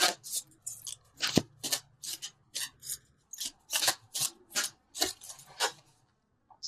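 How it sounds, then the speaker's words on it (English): Tarot cards are shuffled and drawn from the deck, giving a quick series of close, crisp riffles and slaps with short gaps between them. "So let's pull a couple universal love cards."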